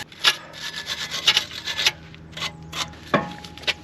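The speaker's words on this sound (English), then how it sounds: "I'm just gonna take my wire brush and clean the contact area where the pad sits" A wire brush scrubs the pad contact area of a BMW brake caliper in short, uneven bursts of close-up rasping strokes, separated by brief pauses.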